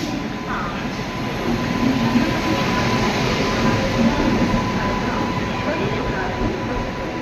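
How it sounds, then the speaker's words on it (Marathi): The Konkan Kanya Jan Shatabdi Express rumbles steadily nearby as it arrives at a station, continuous rolling noise and a faint high whine, people talking underneath. "आमची ट्रेन आलेली आहे आता आम्ही चढतोय ट्रेनमध्ये"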